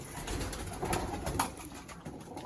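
Pigeons, including Teddy, Andhra and Madrasi breeds, cooing inside a pigeon loft, with soft, low coos that overlap close by against a busy background of rustling and movement.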